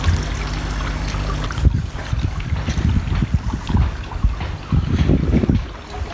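Water gushing from a koi pond pressure filter outflow, a continuous splashing rush with gurgling bursts and some wind buffeting on the microphone, fairly loud and close.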